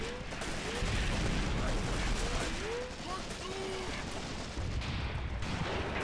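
Dense gunfire and artillery in a WWII war game set on the Mius Front, with German troops defending: a continuous loud barrage of shots and booms, and a voice occasionally calling out over the din.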